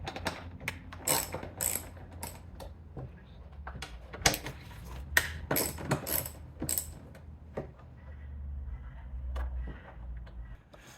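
A wrench ratchets off 10mm fuel tank bolts on a Suzuki DR650 motorcycle, with close, sharp clicking bursts and metallic clinks in irregular spurts amid quieter pauses and handling noises.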